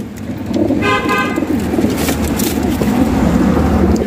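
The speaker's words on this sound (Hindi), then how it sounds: "ये भी सारे रंगदार कबूतर बैठे हैं" Colourful pigeons cooing in a dense, continuous murmur at a pigeon loft, with a brief tonal honk rising above the steady rumble of a busy, noisy space.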